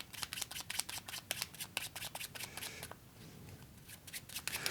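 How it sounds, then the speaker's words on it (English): A deck of playing cards is shuffled close up, a quick, even flutter of crisp clicks that stays fairly faint throughout. "I'll shuffle them into the deck."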